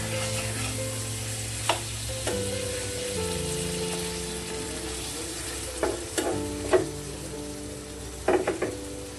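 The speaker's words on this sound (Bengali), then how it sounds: "এখন মাছের সঙ্গে মশলাটাকে ভালো মতো মিক্স করে নিব।" Koral fish pieces frying in a pan as spices are mixed in, a steady broadband sizzle under soft background music, with a few sharp utensil scrapes and clicks near the end.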